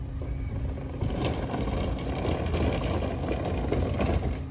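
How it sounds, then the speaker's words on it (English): A Mercedes Econic garbage truck with a Faun Variopress body running quietly, a soft steady mechanical whir and rattle of hydraulics and machinery at moderate distance, with no voices. "That's the quietest garbage truck I've ever heard in my life."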